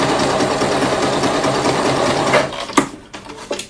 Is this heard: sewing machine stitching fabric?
yes